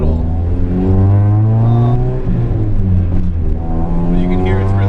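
A loud, low engine drone from an Acura Integra with a B20 engine swap runs steadily throughout, with mild shifts in pitch as the revs change.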